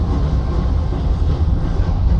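Several trains rolling through a video game scene, a heavy, steady low-pitched rumble that holds loud and close throughout.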